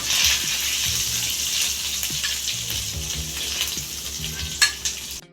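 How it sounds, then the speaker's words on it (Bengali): Marinated shrimp fry in oil in a wok over medium heat for mixed fried rice, a steady close sizzle with occasional stirring clatter throughout, alone without talk. "এখন আমি ম্যারিনেট করা চিংড়িগুলো গ্যাসটা মিডিয়ামে রেখে ভেজে নেব"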